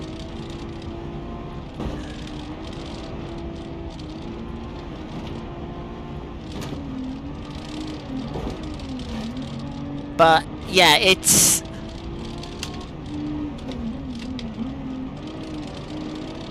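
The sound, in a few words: force feedback steering wheel whirring like a power drill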